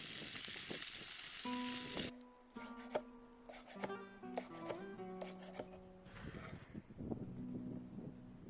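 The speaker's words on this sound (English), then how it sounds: "Now the diced pampeta is fried" Diced pancetta frying in a pan for Catalan braised pork cheeks, a hissing sizzle that cuts off early, followed by clinking utensils, scraping and intermittent spatters while a soft tonal hum runs in the background.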